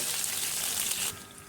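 Whole red chillies and fenugreek seeds sizzling in hot oil for a tadka for kadhi pakoda, a loud, dense crackling hiss that holds steady and then eases slightly near the end.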